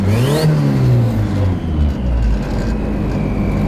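Twin-turbo Honda Civic revving hard and spinning its tires, a loud close engine roar with rising then falling pitch over a continuous harsh tire-scrubbing rumble.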